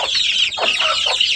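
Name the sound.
desi chickens clucking on rooftop garden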